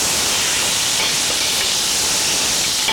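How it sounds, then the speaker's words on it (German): A venison roast sears in hot vegetable oil in a pot, giving a loud, steady, close sizzle and hiss that runs unbroken without any talk. "Das Fleisch ist jetzt scharf von allen Seiten angebraten."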